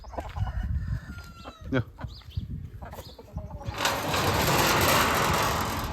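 Chickens cluck and squawk close by in short bursts, then a rooster crows loudly, with a continuous noisy din of the flock behind, on a farm with horses and Gir cows.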